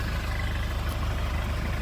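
Suzuki Swift engine idling after a decarbonising service, heard near the exhaust pipe: a steady, low rumbling drone with an even pulse and no change in pitch throughout, no voices.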